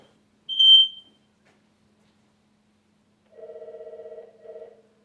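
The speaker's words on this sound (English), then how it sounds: "Oh, that might be your alarm." A short high electronic beep, then after a pause a buzzy pulsing electronic tone that stops briefly and resumes, in an otherwise quiet room.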